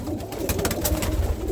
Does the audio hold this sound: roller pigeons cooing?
yes